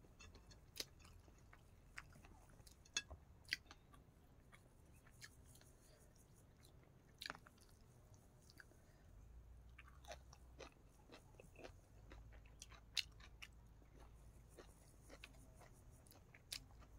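Crunchy chewing of fresh garden vegetables such as hoary basil dipped in chili paste, eaten with rice, boiled egg and pork cracklings; close, soft bites and mastication recurring irregularly, with faint low background hum.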